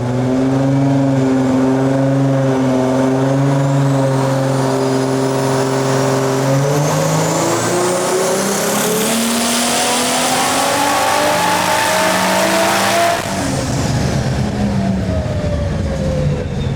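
A turbocharged Barra-powered Holden engine on low boost, around 17 to 18 pounds, revs hard and loud, its pitch sweeping up and down in long continuous pulls with a rising whine on top and no speech.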